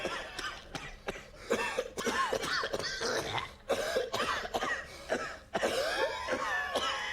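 Repeated harsh, raspy coughing comes in a series of close bursts separated by short gaps, fairly loud and with no speech.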